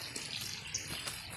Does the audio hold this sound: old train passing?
no